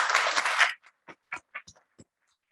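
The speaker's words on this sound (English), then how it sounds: "So let's give them a round of applause." Audience at a real estate town hall claps for board candidates: a short, full burst of applause that stops abruptly, followed by a few scattered single claps.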